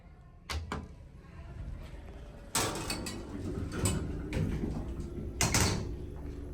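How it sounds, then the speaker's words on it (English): An Otis Series 2 traction elevator door operator at Rudder Tower whirs and clunks as the doors slide open and shut, with several sharp mechanical knocks and a low motor hum in between, heard close in a quiet lobby. "Based on that door operator sound, I assume these used to be Dover"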